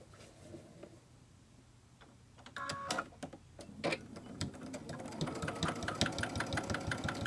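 A sewing machine top stitches the credit card slots of a clutch wallet, starting quiet and then building into a fast, steady run of rhythmic mechanical ticking, close by, with some handling clicks at the start.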